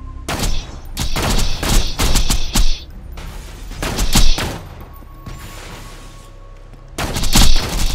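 Gunfire in the video game Borderlands 2 during a boss fight against Dexiduous the Invincible, loud repeated bursts of rapid shots separated by brief pauses, with a final heavy volley.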